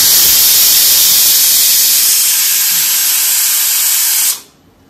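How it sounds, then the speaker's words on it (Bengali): Steady broadband steam hiss from a pot of dal boiling on a gas stove in a home kitchen, loud and continuous alone before cutting off abruptly near the end. "এই যে এখানে ডাল সেদ্ধ হচ্ছে"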